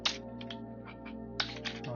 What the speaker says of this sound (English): We're going to type the whole thing again real quick and see what happens.